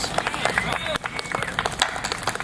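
An audience at Squirrel Fest, an outdoor festival, applauds a performer named Ben, a dense patter of many hands clapping with crowd voices mixed in.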